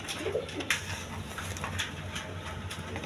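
A pair of pigeons coos in low, repeated, throaty phrases that run steadily over a constant background hum, with brief higher chirps mixed in.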